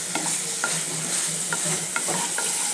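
Potatoes and pre-fried chicken are stirred and sautéed in oil in a pan. A steady close sizzle runs throughout, broken by repeated scraping strokes of a spoon turning the pieces.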